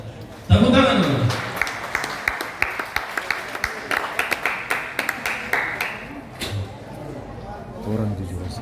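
Audience applause and clapping at a church choir competition results announcement, starting suddenly and loud, then a stretch of sharp scattered claps mixed with crowd noise that tapers off near the end.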